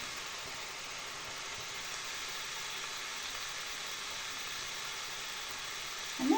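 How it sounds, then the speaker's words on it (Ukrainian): Steady, even sizzling of mushrooms frying in a pan, a continuous broadband hiss with no talking, holding level throughout before a brief clatter at the end. "тепер все маємо добре-добре перемішати, і хай воно смажиться все разом."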